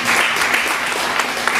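A church congregation breaks into a dense, steady wash of applause offering praise during a sermon, loud and close throughout with no pauses.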